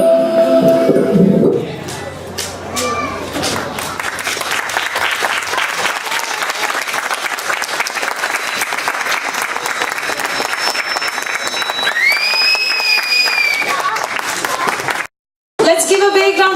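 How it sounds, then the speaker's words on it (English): An audience gives sustained, loud applause after a Sunday school play about Lord Narasimha, with dense clapping that carries on for many seconds while voices and a few tones sound over it. "Let's give a big round of applause to all the Sunday school teachers here and all the students."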